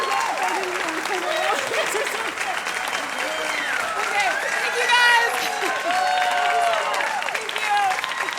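A live music show audience applauds loudly and continuously, with cheers and a voice speaking over the clapping.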